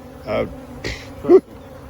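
Honeybees from a large hive buzz in three short, close bursts separated by brief pauses, the last one loudest.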